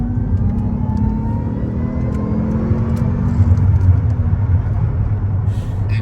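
A supercharged V8 car engine rumbles and revs nearby in a dense, continuous low roar that swells slightly midway, with no talk over it.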